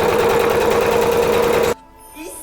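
A sewing machine runs a line of top stitching in one fast, loud, steady burst close by, then stops abruptly into near silence.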